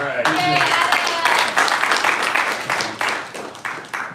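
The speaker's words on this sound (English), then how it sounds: "Let's give them a round of applause." Audience applause for speakers at a coworking space event in Daytona Beach, steady dense clapping that fills the whole stretch and fades slightly toward the end, with a few voices mixed in.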